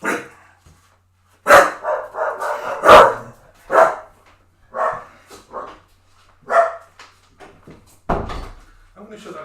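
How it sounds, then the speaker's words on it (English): Several dogs bark in short, hectic bursts at close range in a home kitchen, with a door banging shut partway through and some talking between the barks. "I'm going to shut that door for a bit so dogs are being hectic"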